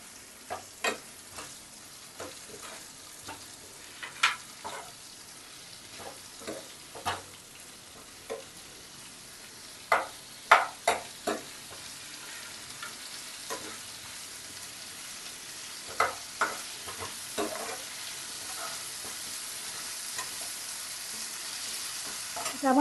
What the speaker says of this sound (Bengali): আদাটা দিয়েও ভালো করে একটুখানি কষে নেব।